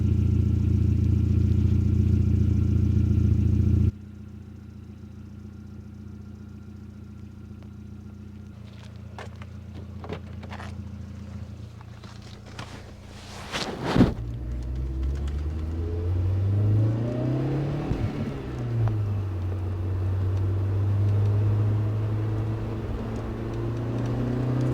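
A Volkswagen GTI engine rumbles low and steady after a quiet stretch, with a few clunks, then rises and falls as it revs while the car pulls away and drives.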